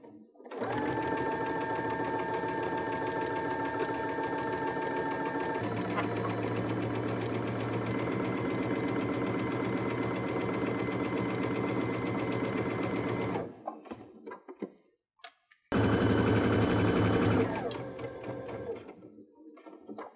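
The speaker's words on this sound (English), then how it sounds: "first we're going to start out sewing these two areas with a 1/4 inch seam allowance" A sewing machine runs steadily at speed, stitching quarter-inch seams on a pillowcase, a loud close mechanical whir that shifts tone partway, pauses briefly, then resumes in a short final burst.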